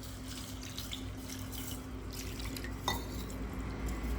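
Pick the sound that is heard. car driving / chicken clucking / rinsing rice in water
rinsing rice in water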